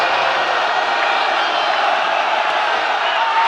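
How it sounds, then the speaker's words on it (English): Arena crowd at a Malaysia vs Thailand sepak takraw match in the 2015 ISTAF Super Series roars without letup as Malaysia wins on match point, a loud, dense wall of cheering. "The crowd goes absolutely wild."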